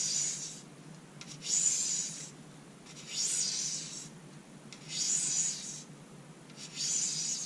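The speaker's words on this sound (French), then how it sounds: "je vais venir gratter, voilà, pour enlever les copeaux de peinture" Paint chips are scraped off a spinning fishing rod blank during a full teardown, with four long, even rasping strokes in a steady rhythm, close and alone.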